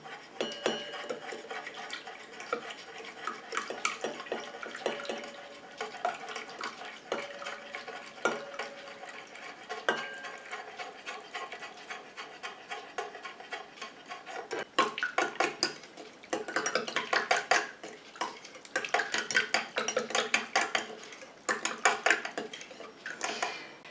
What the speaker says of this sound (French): Et je rajoute petit à petit ma phase aqueuse tout en mélangeant